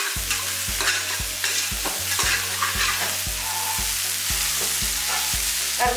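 Mutton seasoned with salt and turmeric sizzles in a pan while being stirred and sautéed, giving a busy crackle over repeated rhythmic scraping and clanking strokes, loud and close.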